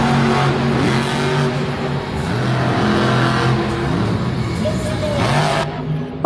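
A monster truck engine roars and revs hard during a freestyle run at a Monster Jam event in Lyon, France. A loud, steady roar rises and falls in pitch as the truck pulls a wheelie, with commentary spoken over it.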